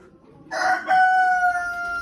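A rooster crows once among chickens in a coop, a loud, close, drawn-out call that holds steady for over a second before trailing off, with no one talking.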